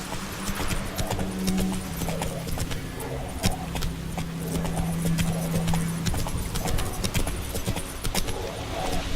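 Geralt's horse Roach from The Witcher 3 gallops in a steady, close clip-clop of hooves, with a faint whinny and jingling tack over a low, constant hum.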